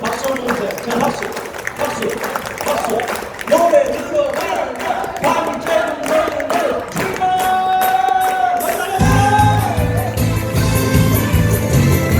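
An audience claps along in steady rhythm to an upbeat trot-style song at an outdoor Wolmido performance, the clapping layered under loud music and a singer's voice.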